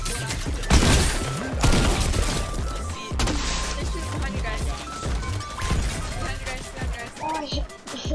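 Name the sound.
gunshots in a video game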